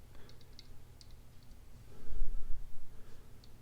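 Faint, sharp clicks from a QSP Gannet folding knife with a front flipper and a slightly loose pivot, the blade lock snapping a few times over a low background rumble.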